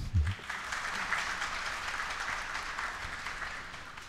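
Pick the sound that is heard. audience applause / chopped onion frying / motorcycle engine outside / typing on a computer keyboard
audience applause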